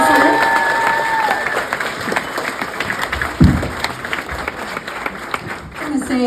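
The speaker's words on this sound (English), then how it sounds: "Can we give another round of applause for Oscar Garcia?" A scholarship gala audience gives a round of applause with scattered cheers and whoops, loud at first and tapering off toward the end, with a few voices rising above the clapping.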